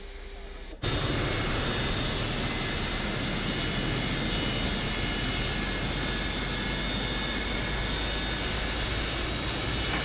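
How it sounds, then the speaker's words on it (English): Boeing 727-200 jet engines in Microsoft Flight Simulator 2024 swell suddenly into a loud, steady broadband roar with a faint whine, holding constant after a quieter opening second. "Cockpit to ground. We have a good engine start."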